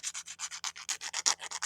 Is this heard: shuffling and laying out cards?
no